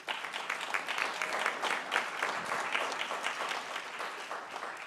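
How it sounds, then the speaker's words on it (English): Audience applause at a conference leaders' stage session, dense and sustained clapping from a large crowd, loud and even throughout with no talking over it. "Give them a round of applause."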